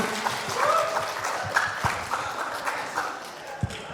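Applause from a workshop audience, moderate and somewhat loose, with scattered distinct claps and thumps over a diffuse background of hands, fading toward the end.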